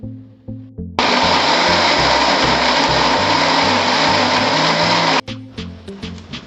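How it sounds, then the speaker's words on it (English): A mixer grinder churns soaked dosa batter into a fine paste, a loud steady high-pitched motor whine that starts abruptly, holds constant for about four seconds, then cuts off, with a quiet rhythmic background before and after. "We'll put this in the mixer grinder and make fine paste."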